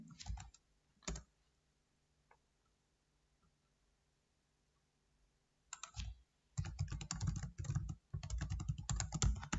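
Fingers type on a computer keyboard into a web browser: a few quick keystrokes, a long near-silent pause, then dense bursts of rapid, close clicking.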